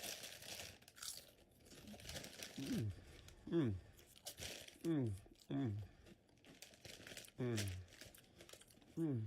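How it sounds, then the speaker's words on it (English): Bag of Ruffles potato chips crinkling in a store's chip aisle, with repeated crunchy rustles and crackles in short bursts, mixed with other brief sounds and intermittent talk. "he's gonna grab a bag of Ruffles to munch on while he looks at some brewskis."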